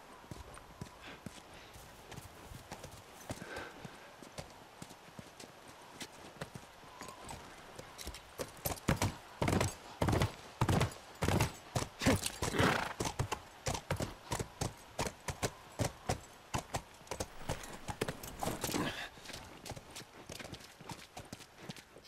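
Horse hooves clip-clop in The Last of Us Remastered on PS4. After a quiet opening the hoofbeats turn steady and rhythmic and stay close and clear, with faint voices now and then underneath.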